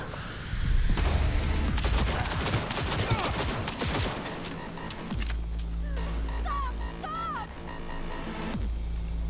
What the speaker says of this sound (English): someone is shooting me from literally halfway across the block